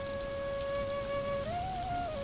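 Rain falls steadily in a cartoon story scene, a continuous hiss of drops on surfaces with a sustained whistling tone running over it.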